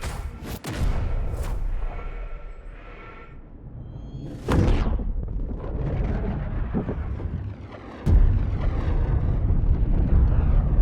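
A tank fires in a video game: three heavy booming blasts spaced a few seconds apart, each followed by a rumbling tail over low background noise.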